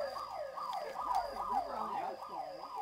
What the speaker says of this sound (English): Is that the cop siren or the bank siren?